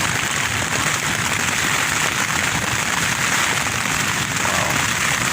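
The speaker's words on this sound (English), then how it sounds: "See the whole side of the tent being pushed in by the wind." Strong wind pummels the side of a tent during a storm, producing a loud, continuous broadband roar and flapping rush that stays steady throughout with no talking.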